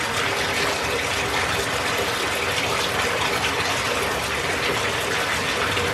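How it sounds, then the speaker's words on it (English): Bath water runs from a tap into a tub, a steady loud broadband gush that continues without pause, with no voices over it. "I'm about to go ahead and run my bath water."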